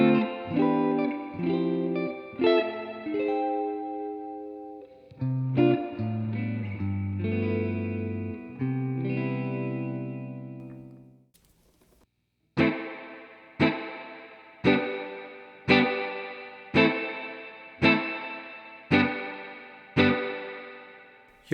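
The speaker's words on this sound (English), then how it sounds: "You really can hear the spring work." Electric guitar through a Universal Audio Dream '65 pedal drenched in spring reverb: a melodic passage, then evenly spaced strummed chords, each trailing off in a long, splashy decay.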